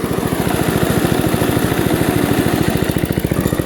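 A vintage Webb or Suffolk Punch petrol lawn mower engine runs alone at close range, a fast, even, chugging beat that stays loud and steady throughout.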